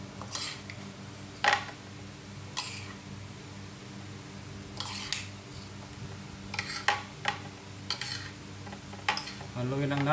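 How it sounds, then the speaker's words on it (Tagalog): Shredded coconut mixture for palitaw is stirred in a pan, with soft scraping and intermittent clinks of a utensil against metal over a low sizzle, and a louder knock near the end. "Haluin lang natin para pantay-pantay yung kapit ng ating niyog, shredded niyog."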